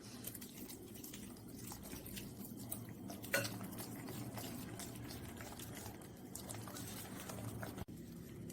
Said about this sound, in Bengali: এবার এটাতে জল দিয়ে এটাকে মিক্স করতে হবে।